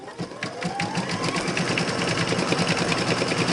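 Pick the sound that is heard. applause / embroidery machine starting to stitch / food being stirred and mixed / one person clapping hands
embroidery machine starting to stitch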